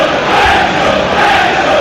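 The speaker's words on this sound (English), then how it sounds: "Wrexham fans cheer behind the goal" Wrexham supporters behind the goal at an FA Cup match against Blackburn Rovers make a loud, continuous roar of crowd noise, dense and sustained with no break.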